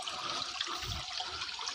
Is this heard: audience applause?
no